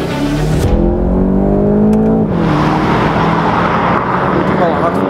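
A 2017 Volkswagen Golf GTI in sport mode gives a loud, rising engine roar that climbs in pitch, drops briefly at a shift, then builds again as the car accelerates hard, with a voice speaking over it.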